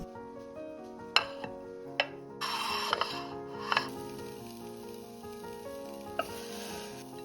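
Apples with cinnamon, agave and oats sizzle softly in a pan, with a few sharp clinks of a utensil against the pan and bursts of louder frying as the mixture is stirred.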